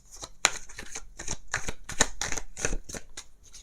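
Tarot cards riffle and slap together in a steady run of quick shuffling bursts, close and fairly loud, with no voices over them.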